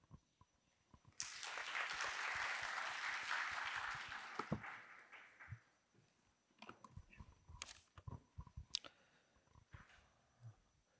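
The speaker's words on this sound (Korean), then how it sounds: "큰 박수로 모시겠습니다." Forum audience welcomes a speaker with applause, a burst of clapping that swells for a few seconds then dies away, leaving scattered clicks, shuffles and room noise.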